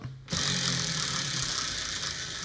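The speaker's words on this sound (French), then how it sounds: "Ça fait un bruit de moto carrément." After a brief quiet moment an engine bursts into a loud, raspy, motorbike-like roar and holds at a steady, gravelly running pitch.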